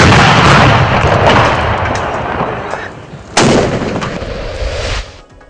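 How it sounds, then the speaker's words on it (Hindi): A 21-gun artillery salute: heavy booming blasts roll out in quick succession, loud and echoing, with a sharp fresh report near the end before the rumble fades. "21 तोपों की सलामी।"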